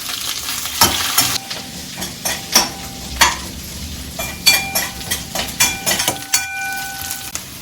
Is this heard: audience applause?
no